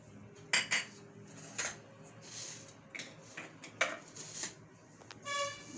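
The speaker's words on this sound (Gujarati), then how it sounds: "બધું મિક્સ કરીને આપણે આને લોટને બાંધી લેવાનો છે." A spoon clinks against a bowl while flour, salt and oil are mixed for radish-leaf paratha dough, giving scattered sharp taps and scrapes over a quiet kitchen background, with no talking.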